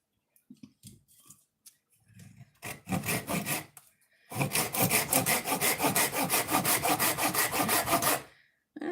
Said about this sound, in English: but I'm going to put it on my lathe anyways.